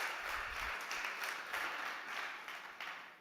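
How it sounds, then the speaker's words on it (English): Audience applause at a startup pitch stage event, a steady wash of many hands clapping at moderate distance that thins slightly toward the end. "Can we have a big round of applause one more time for Isabella Kruzek-Kott from Space to Grow?"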